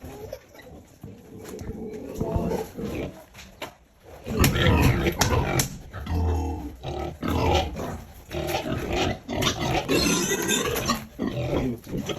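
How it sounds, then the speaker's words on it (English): Pigs on a pig farm grunt and squeal in repeated bursts close by, the noise swelling and fading over several seconds while people talk over it. "Fine pigs. Very neat."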